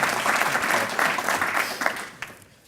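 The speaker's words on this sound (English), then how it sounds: "Give ourselves a round of applause for that" An audience at a community education update breaks into applause, a dense crackle of many hands that holds steady, then thins out and fades with a few last claps near the end.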